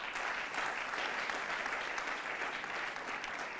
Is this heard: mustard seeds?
no